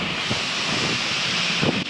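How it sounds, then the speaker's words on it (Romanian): Strong wind on an open farm field during sowing buffets the microphone in a steady, loud roar with no talk. "Bate vântul destul de tare, dar e bine că bate"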